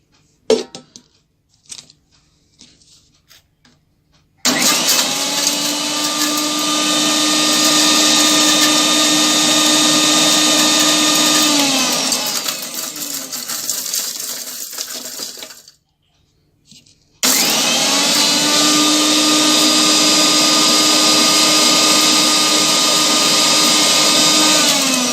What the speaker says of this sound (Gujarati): હવે આપણે પહેલાંને ગ્રાઇન્ડ કરી લઈશું